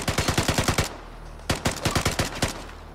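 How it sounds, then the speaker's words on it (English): Automatic gunfire rattles at a firing range in Vigor on Xbox One, two rapid bursts of about eight and seven sharp, evenly spaced shots separated by a brief pause. "Shooting at the firing range does not consume your valuable ammo. Fire at will."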